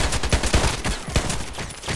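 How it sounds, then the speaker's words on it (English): An HK USP pistol fires rapid rounds in the online shooter game Contract Wars, sharp repeated gunshot bursts in quick succession, loud and close with no speech. "Seven shots, no need to reload."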